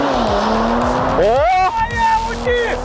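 Audi A7 stage 1 tuned car accelerating hard, its engine note climbing through rising gear sweeps with tyre noise, loud and close, with voices talking over it.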